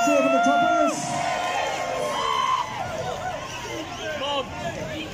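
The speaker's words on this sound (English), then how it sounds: "Big cheer for the Toppers." Crowd lining the Bridgwater Carnival procession in 2021 cheers for the Toppers, with whoops and shouts over a bed of chatter and babble that swells and dips.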